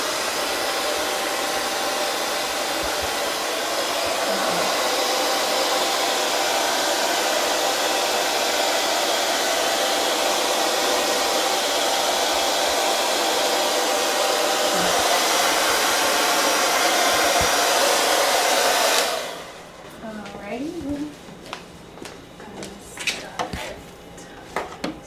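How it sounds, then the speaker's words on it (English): A hair dryer blows steadily on damp hair, a loud close continuous whoosh for most of the stretch before it switches off, leaving faint handling clatter and rustles. "your hair is still a little damp, so I'm just going to blow dry it a little bit."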